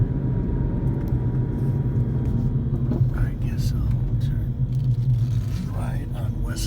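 Interior rumble of an Audi A3 engine being manually downshifted through the gears, a low, steady drone with small rises in pitch, under a murmuring voice.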